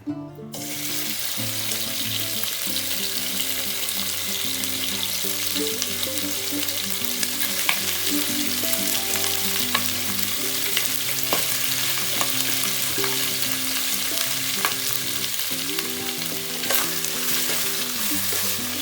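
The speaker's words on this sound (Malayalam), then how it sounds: "ഇതിലേക്ക് നമ്മൾ ആ വെന്ത ഇറച്ചിയില്ലേ അത് നമ്മൾ ഇതിലിട്ടിട്ട് ഒന്ന് ഫ്രൈ ചെയ്തെടുക്കുക" Boiled pork for a Filipino pork adobo fries in sunflower oil. The sizzle is loud and continuous, with a low steady hum behind it and occasional stirring clinks, and it runs without any talk.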